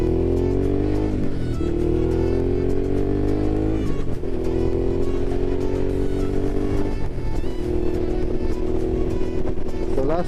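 A Suzuki V-Strom 650 XT motorcycle is ridden on the road, its engine droning loud and close with steady rising pitch sweeps as it accelerates through gears.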